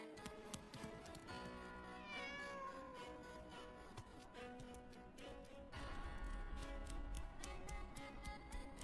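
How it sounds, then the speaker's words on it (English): A cat meows several times amid a busy mix of ticking and other sounds, with a deeper rumbling layer joining partway through. "Could it be another cat?"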